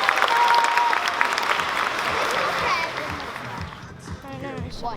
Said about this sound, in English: can we give a big round of applause to our students for their great work here?